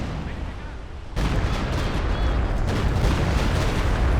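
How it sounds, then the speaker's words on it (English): Rocket artillery from a walking Stuka halftrack slams in during a Company of Heroes 2 match: a sudden loud boom at about one second swells into a dense, rumbling barrage of blasts that keeps building to the end. "Ooh, that was a big hit from the walking Stuka."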